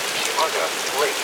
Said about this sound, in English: here's the heavier rain.